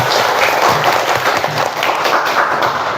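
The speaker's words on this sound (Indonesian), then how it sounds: "tepuk tangan dulu untuk Sila." Classroom students clap together for a classmate, a loud, dense burst of applause lasting a few seconds.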